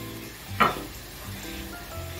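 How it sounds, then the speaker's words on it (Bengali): Onion mixture for an onion paratha filling sizzles in a pan over a low-to-medium gas flame, a soft, steady frying hiss with one brief louder burst of stirring near the start. "আমি 3 থেকে 4 মিনিট একটু ভালো করে গ্যাসটা লো টু মিডিয়ামে রেখে কষিয়ে নিচ্ছি"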